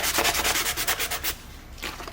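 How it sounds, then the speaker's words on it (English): Rhythmic back-and-forth sanding strokes on a 3D printed ukulele neck, about a dozen close, even rasping passes that fade out near the end, with no talking. "So part of the sanding is just to smooth the bottom of the thread out"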